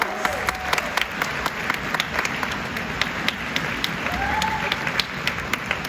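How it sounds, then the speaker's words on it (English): A crowd at a summer orchestra event claps steadily for several seconds, a dense, even patter of many hands with a few sharper claps standing out near the front. "Can we give them a round of applause?"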